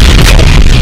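Dull explosion sound effect made in Sony Vegas: a loud, sustained rumbling blast with heavy low-end boom and noisy crackle throughout, close and alone.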